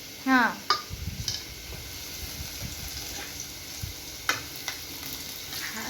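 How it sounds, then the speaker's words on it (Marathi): Green chilies and onion sizzle in a pan for a dry beet-leaf bhaji, a soft frying hiss broken by several clanks and scrapes of a utensil against the pan. "झाली बऱ्यापैकी भाजली मिरची पण आणि कांदा पण भाजला व्यवस्थित"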